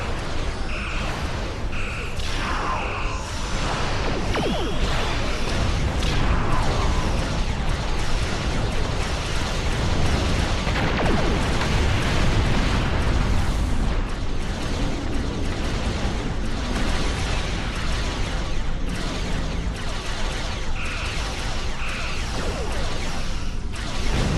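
Starship weapons fire and explosions in the space battle game Star Trek Online, with dense, continuous booming blasts, bursts and whooshes layered over a steady loud roar for the whole stretch.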